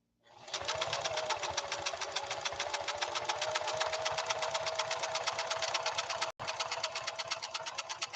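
A Singer sewing machine stitching a decorative pattern, a fast steady mechanical chatter running without a break apart from one very short pause.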